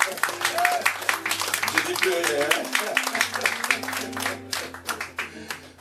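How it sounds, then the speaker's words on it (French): A crowd claps enthusiastically during an evening show, dense rapid clapping lasting throughout, with a few voices and brief whistling mixed in. "on l'applaudit tout simplement"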